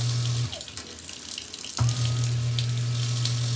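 A SEAFLO aeroponic water pump runs with no pressure load, giving a steady low motor hum over a gushing, hissy water rush; it cuts out briefly, then restarts and keeps droning.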